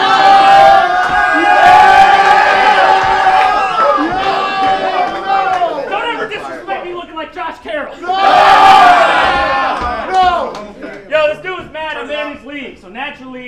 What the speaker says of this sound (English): Naturally, the crowd excited for this.